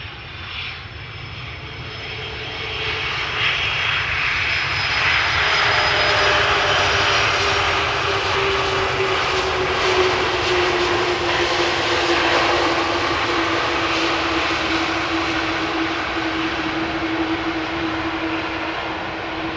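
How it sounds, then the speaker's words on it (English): An eight-year-old Airbus A330-300 jet arriving at Amsterdam Schiphol from Istanbul roars past, its engine noise swelling into a loud, sustained rumble and whine that fades slightly toward the end. "arriving from Istanbul. Flight time 3 hours and 5 minutes. Airbus A330, 300, 8 years old."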